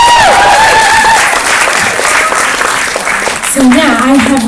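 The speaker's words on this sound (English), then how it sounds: "Give him a round of applause, everybody." Loud, dense applause and cheering from a live comedy show audience in Sydney, continuous clapping throughout with a voice talking over it at the start and again near the end.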